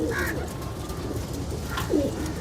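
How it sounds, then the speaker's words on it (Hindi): Teddy pigeons of an old Kamagar bloodline coo softly in a loft, a couple of low rolling coos standing out over a steady background hum, with no voices. "कैसा खूबसूरत कबूतर है"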